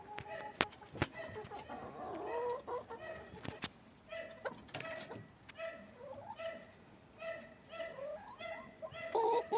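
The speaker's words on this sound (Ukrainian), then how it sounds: "Півень, скажи щось публіці." A rooster crows and clucks nearby amid other farmyard fowl sounds and sharp knocks, with a faint voice now and then in the background.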